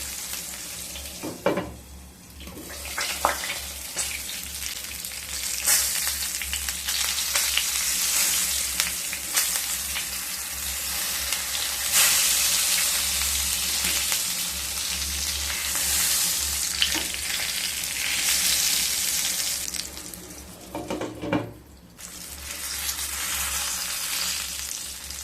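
Brinjal slices fry in a hot pan with a steady, loud sizzle that runs the whole time. Occasional scrapes and knocks come through as the slices are turned, and no one speaks.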